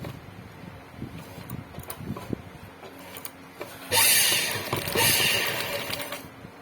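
A sewing machine runs a quick stitch along a folded fabric hem that is left unopened, starting with scattered light clicks and handling taps, then a loud, steady mechanical whir for a couple of seconds.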